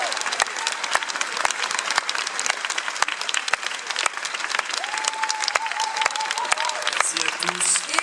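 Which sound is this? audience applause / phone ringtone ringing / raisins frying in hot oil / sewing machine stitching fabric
audience applause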